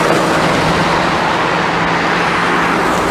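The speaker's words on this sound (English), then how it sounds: "But wait for this lorry to pass." A heavy lorry rumbles past on a road near Glasgow Queen Street, a broad steady roar of engine and tyres held at high level from start to finish with no voices.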